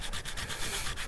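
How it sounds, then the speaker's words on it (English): A car bumper on a Mini John Cooper Works F56 gets sanded by hand with 150 grit paper, giving steady rhythmic rasping strokes up close, with no talk. "let's begin sanding this down"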